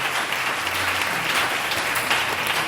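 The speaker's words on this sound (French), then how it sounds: "On acclame le Seigneur." A church congregation at a deliverance service applauds in praise of the Lord, a dense, steady roar of many hands clapping together that holds at an even level throughout.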